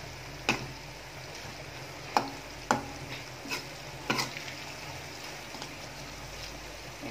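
Meat with spices sizzles softly in a pan while a utensil scrapes and knocks through it in several sharp stirring taps, fairly close and quiet.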